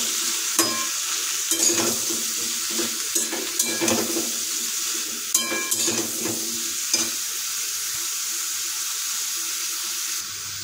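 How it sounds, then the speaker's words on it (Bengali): Spatula stirring spiced ridge gourd with cumin, coriander, turmeric and salt in a pan, with close scraping strokes and clinks over a steady sizzle. "আমরা ভালো করে খুন্তি দিয়ে নাড়িয়ে নেব।"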